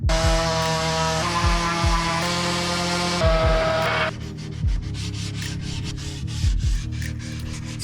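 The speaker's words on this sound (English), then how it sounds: "So once this is all sanded down," A power sander drones loudly and steadily against a custom wooden entertainment center, with a rhythmic rubbing sweep as it moves back and forth, its pitch dropping partway through.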